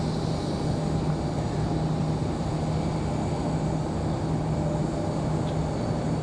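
A Southwest Boeing 737-800 airliner on the downwind near Raleigh-Durham airport gives a steady, broad engine roar. The roar stays continuous at a moderate distance, with no talking.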